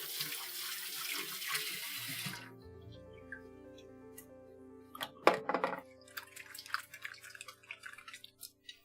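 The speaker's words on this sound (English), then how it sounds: "Wash my hands." Tap water runs into a sink for about two and a half seconds while hands are washed, then stops, leaving soft drips, clinks and small handling noises close by in a kitchen.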